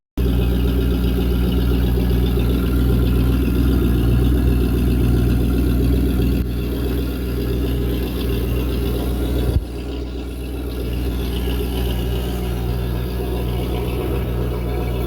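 An auction boat's engine, freshly fitted with a rebuilt carburetor and new impeller, runs at a steady close idle, a loud continuous drone that shifts slightly lower partway through with a brief knock near the end.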